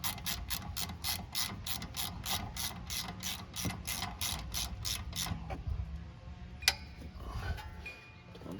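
A ratchet with a 14mm socket tightens the rear brake caliper bracket bolts on a 2019 Chevy Traverse, a fast, even run of close, crisp clicks for about five seconds, then a few light metallic knocks in a quieter garage.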